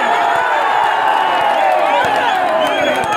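A large crowd at a political rally in Alangulam roars continuously and loudly with cheers and whoops, a dense wall of voices and some clapping through the whole stretch.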